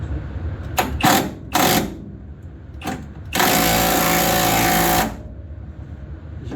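Battery-powered impact wrench loosening an engine mount bolt on a 1967 race car build, heard as several short rattling bursts followed by one longer sustained hammering run, loud and close with no talk.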